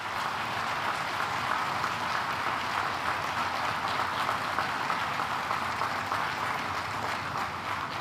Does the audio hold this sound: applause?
yes